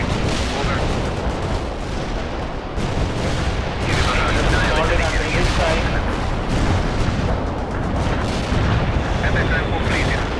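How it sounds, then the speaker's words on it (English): Artillery strike in the real-time strategy game World in Conflict, Soviet Assault: sustained heavy rumbling barrage of booms and blasts, dense and loud throughout, with overlapping impacts and no pauses. "Artillery strike is inbound."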